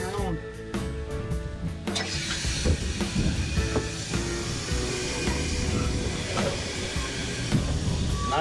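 H.K. Porter 1715 steam locomotive on its first run under steam, pulling away with a rising rumble and hiss of running gear, steady and fairly close, with someone talking over it.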